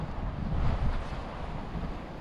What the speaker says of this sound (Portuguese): Muito vento hoje, galera, vento nordeste.